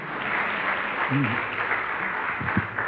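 Applause from a folk music event's audience welcoming a performer, steady clapping at moderate level with brief voices and murmurs mixed in.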